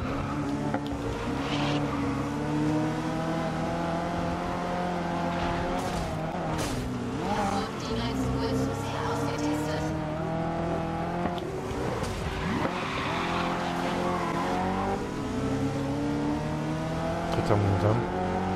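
Historic GT race car engines in the racing game GRID at Barcelona, loud sustained engine drone with rising and falling revs, gear shifts and occasional tire squeal, someone talking over it throughout.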